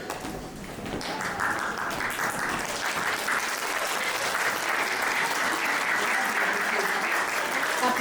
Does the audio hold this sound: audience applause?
yes